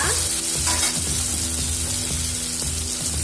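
Ingredients fry in a pan for Andhra dhappalam, a loud close sizzle with repeated stirring and scraping strokes throughout, and no talking.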